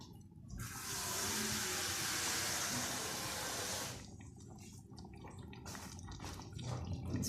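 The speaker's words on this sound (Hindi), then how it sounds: "चला के इसमें पानी और डालेंगे।" Water rushes steadily into a pot of rice being cooked for aloo tahari, a continuous bright pour lasting a few seconds before trailing off into drips and small kitchen noises.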